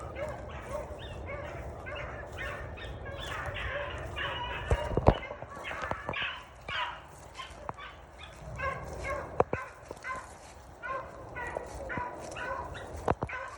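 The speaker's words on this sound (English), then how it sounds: "Listen to that dog." Several hunting dogs on a rabbit hunt bay and bark continuously in the distance, overlapping in ragged rhythm, with a few sharp knocks and outdoor noise mixed in.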